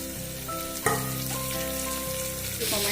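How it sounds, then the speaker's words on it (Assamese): Spicy pea ghugni ingredients fry in a pan while being stirred now and then, giving a steady close sizzle with brief scraping bumps and no voices. "গোটেই বস্তুখিনি যাতে ভালদৰে ভাজ খায় তাৰ কাৰণে মই মাজে মাজে লৰাই থাকিম।"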